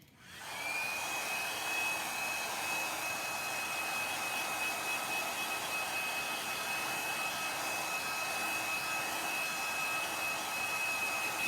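A hair dryer blows steadily at close range to dry chalk paste on a board, a continuous even roar with a thin whine running through it, with no voices.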